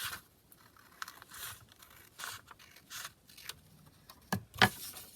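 Quiet, intermittent snips and paper crinkles as scissors cut paper for a junk journal, with several short bursts spaced apart and a sharper crisp cut near the end.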